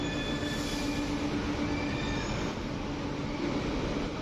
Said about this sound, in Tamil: இது வந்து இப்போ ஏர்போர்ட்டு போகிற ட்ரெயின் இது.